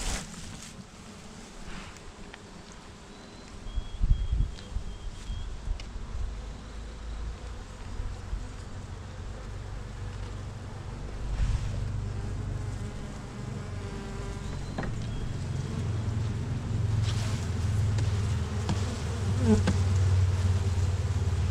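Honey bees buzz around an opened hive during a first-week ranch checkup, a continuous close droning hum with individual bees passing near and some faint handling noise throughout.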